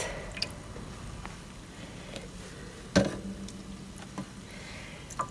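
Excess water drips from sheets of paper dyed with red onion skin, giving a few soft, sparse drips and squishy splats, one louder near the middle, against a quiet background.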